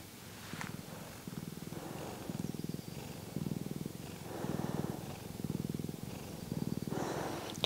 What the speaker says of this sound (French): J'espère que vous l'aurez entendu ronronner.